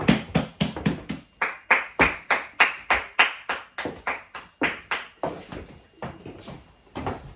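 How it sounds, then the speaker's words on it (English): A church congregation gives a clap offering to welcome someone, with loud, rhythmic, synchronized clapping of about twenty-four evenly spaced beats that slows slightly and thins toward the end. "With a clap offering, shall we welcome Mama?"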